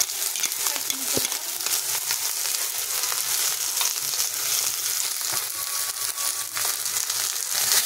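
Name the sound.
onion and spice paste frying in a pan for boal fish kalia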